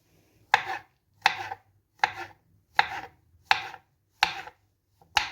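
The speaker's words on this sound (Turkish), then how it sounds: "Şu şekilde doğruyoruz." Mushrooms are chopped on a board for pizza: seven crisp, evenly spaced knife strokes land about once every three quarters of a second, close and clear with nothing else in the background.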